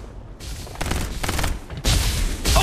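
Gunfire in the video game Farlight 84: rapid bursts of shots crackle in quick succession, growing denser and louder toward the end, with several overlapping volleys.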